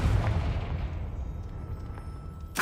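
A Confringo blasting spell from Hogwarts Legacy bursts in a deep rumbling explosion that fades slowly over a couple of seconds, and a sharp new blast cuts in at the end.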